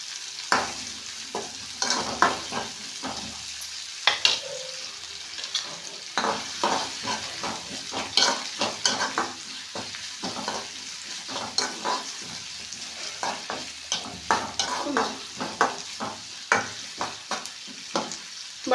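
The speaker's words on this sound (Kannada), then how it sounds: "ಈರುಳ್ಳಿ ಫ್ರೈ ಮಾಡ್ಕೋಬೇಕು ಎಣ್ಣೆಯಲ್ಲೇನು." Chopped onions sizzle and fry in hot oil in a pan for a North Karnataka-style palya, with repeated scraping strokes of a spoon stirring them at a steady, close rhythm.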